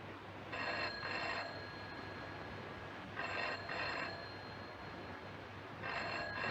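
A telephone rings in repeated double bursts, three cycles with pauses between, over a low steady background hum.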